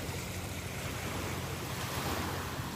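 Steady ocean surf rolling against the shore beside a seaside property, a constant broadband wash with wind buffeting the microphone, no voices.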